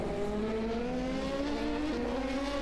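An LMP2 race car at the Matsusaka circuit in a GTR24H sim-racing session, with a loud, close engine whine that holds a steady tone and drops slightly toward the end.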